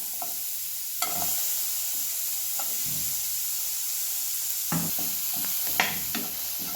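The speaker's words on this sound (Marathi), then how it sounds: "कांदा चांगला भाजून घेऊया" Finely chopped onion frying in hot oil, a steady close hiss of sizzling with occasional spatula scrapes and stirring knocks, louder bursts of stirring near the end, no speech.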